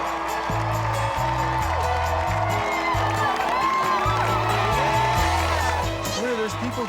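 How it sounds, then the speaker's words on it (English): Crowd cheering and whooping outside a home as a family pulls up the driveway, with voices and music-like tones mixed through a busy, continuous roar. "There's people cheering for us."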